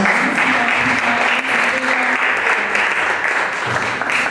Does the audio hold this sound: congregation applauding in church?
yes